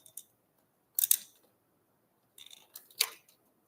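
A few sharp plastic clicks and snaps from a Chroma electric hand beater as its beaters are released, close and isolated with short silences between, no talking.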